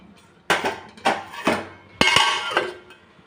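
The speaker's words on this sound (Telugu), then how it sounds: "ఇప్పుడు హైలో పెట్టి మూత పెట్టేసి ఉడికించుకుందాం" A metal lid is set onto a cooking pot of brinjal and dried fish curry, giving several close clanks and clinks in a short series, the last one ringing on briefly.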